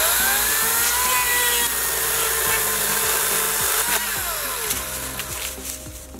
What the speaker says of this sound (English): I'm gonna have her cut this tree so y'all can see